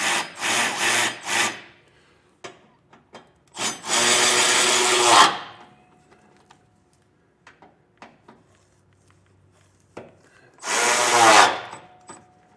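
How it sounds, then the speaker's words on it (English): Bolts being tightened with a number 9 Allen bit while installing Air Lift LoadLifter 5000 Ultimate rear air helper springs on a 2024 Ford truck: three loud, whirring power-tool bursts separated by quiet gaps with scattered small clicks and taps. "we'll come back with a number 9 Allen wrench and we'll tighten them down"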